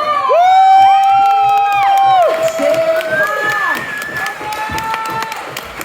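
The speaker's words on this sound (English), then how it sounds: "Give him a big round of applause!" A comedy club audience in Glasgow cheers and applauds a new comedian, Matt McGlashan, arriving on the main stage: loud, dense clapping with whoops and shouts, tapering slightly as it goes on.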